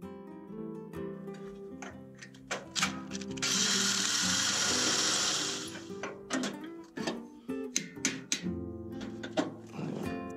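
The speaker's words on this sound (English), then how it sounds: "now I'm just going to drill two holes and put in the same bolt" A power drill whines steadily for a few seconds, drilling holes in steel, surrounded by clanks and knocks of metal parts being handled nearby.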